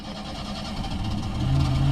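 A classic Vauxhall Viva GT engine cranks and catches, a low steady rumble building in loudness toward the end as it settles into a running idle, close by.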